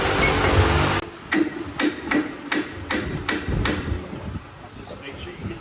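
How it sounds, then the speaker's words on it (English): A hammer strikes a part on a Dodge Ram 1500 pickup truck during repair, with about eight sharp metallic blows in a steady rhythm, loud and close, following a stretch of background noise. "You need to hit it with hammer"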